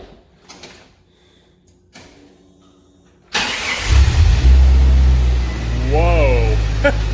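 A Jeep engine cranks and fires up with a newly fitted cheap exhaust, going from quiet shuffling and a door clunk to a sudden loud, steady idle rumble that holds close by.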